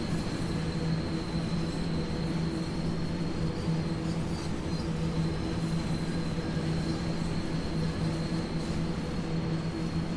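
A train rolls past in a railway simulation game hauling aggregates wagons around Arosa: continuous rumbling wheels and a steady mechanical hum with faint squeals, loud and close throughout, no talking.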